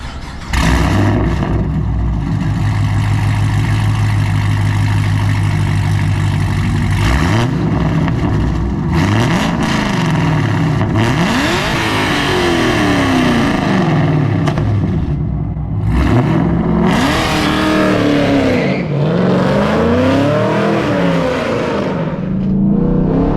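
A modified 5th-gen Chevrolet Camaro SS V8 revs hard again and again: loud, close engine roar climbing and falling in repeated swells, with a steady idle between blips.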